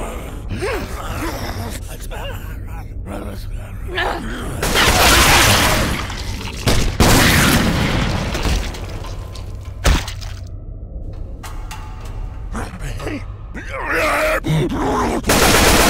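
Loud gunfire and explosive bursts ring out in a Left 4 Dead 2 animation set in a mall, mixed with groans and gasps, and voices speak between the blasts.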